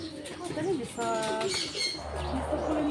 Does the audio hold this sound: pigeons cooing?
yes